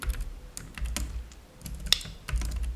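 Keys clatter on a computer keyboard in quick, irregular taps, close and moderately loud, with no talk.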